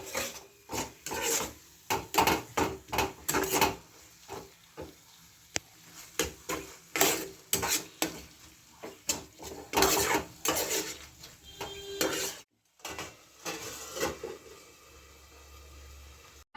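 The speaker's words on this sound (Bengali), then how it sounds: "এখানে আমি কিমাটা দিয়ে দিচ্ছি আমার একশো গ্রাম কিমা আছে" Minced meat, about a hundred grams, goes into a pan and is stirred, with a steady series of scraping, clattering utensil strokes against the metal, close and fairly loud, with no talking.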